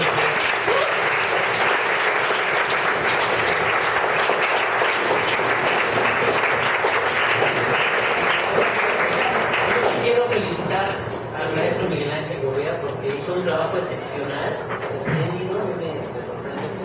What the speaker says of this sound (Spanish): creo que le damos un aplauso muy fuerte.